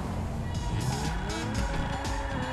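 A car driving in the video game GTA 5 keeps up a loud, continuous engine roar with tire noise and a shifting pitch as it speeds along, with a voice faintly under it.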